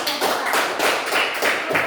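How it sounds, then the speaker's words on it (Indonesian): A quick series of hand claps repeats in a steady rhythm, close and fairly loud, with no talking. "tepuk tangan itu"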